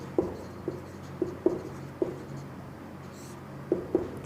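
Numbers are written on a classroom board with chalk, producing a series of sharp taps and short scratchy strokes at irregular intervals against a quiet room.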